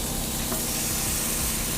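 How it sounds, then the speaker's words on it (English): Seasoned pork pastrami sizzles loudly and steadily on a hot grill, a dense close-up crackling hiss with no pauses. "Always needs to sizzle when it hits the grill."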